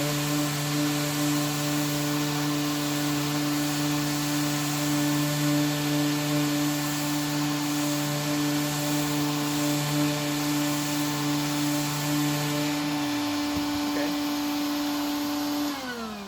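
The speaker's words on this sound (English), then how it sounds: "let's go ahead and do a little sanding" Floor sander fitted with an 80 grit screen stripping the finish off wood while hooked to a vacuum, a loud steady motor drone with a strong hum that winds down near the end as the machine shuts off.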